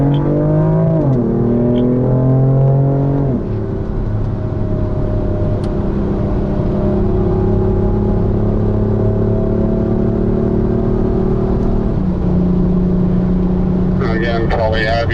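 BMW M car accelerating out of a corner on a race track, engine note rising in pitch through gears with a clear upshift drop, loud and close from inside the cabin, ending with a brief shift near the end.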